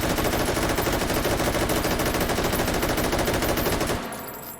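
Sustained full-auto fire from a Malyuk bullpup carbine chambered in 7.62x39 in H3VR, a loud, rapid unbroken burst of shots that cuts off near the end, leaving a brief decaying tail.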